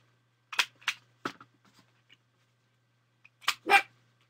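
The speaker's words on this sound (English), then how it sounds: "And now the dog's going to bark again." A dog barks indoors in short sharp bursts: two quick barks, a third a moment later, then a pause and a final pair of louder barks, with a steady low hum underneath.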